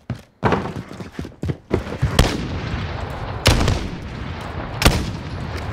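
Gunfire in a 1v1 shooter video game: a series of sharp, loud shots at irregular intervals, some in quick pairs, over a constant background of game noise.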